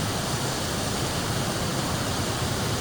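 Conglomerate Falls in the Victorian High Country roars with a steady, broadband wash of falling water, constant and close, with no voices over it.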